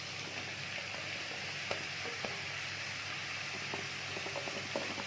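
Ginger and garlic frying in a pan give a steady, close sizzle with faint clicks and small crackles scattered through it, and no one talks.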